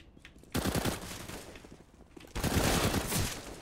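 Two bursts of rapid AK automatic gunfire in a video game, each a dense rattling volley of about a second or more, separated by a quieter gap with faint background noise.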